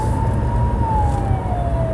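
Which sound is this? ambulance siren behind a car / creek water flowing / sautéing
ambulance siren behind a car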